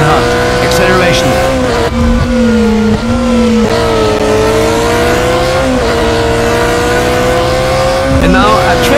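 BMW M3 GTR in Need for Speed Carbon accelerating on the bumpy Nürburgring Nordschleife toward Kallenhardt, its engine note rising steadily through the gears, loud and close, with someone talking over it throughout.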